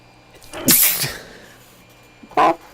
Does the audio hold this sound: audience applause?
no